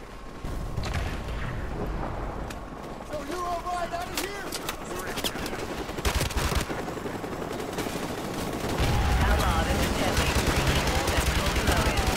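Gunfire in Call of Duty Modern Warfare Remastered: sustained rapid firing and sharp shots under a dense wash of battle noise, with a voice talking over part of it.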